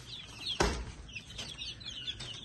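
A hen clucking in a backyard coop area with chicks nearby: soft, repeated clucks and short high calls, with one sharp thump partway through and a quiet outdoor background.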